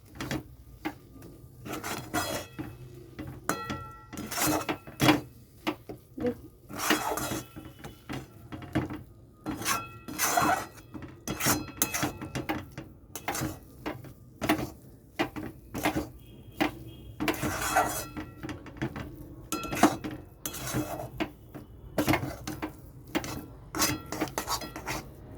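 A spoon stirs semolina in a pan while making a palm-fruit rasmalai, a long series of irregular scraping and knocking strokes against the metal, close and fairly loud, with no talk.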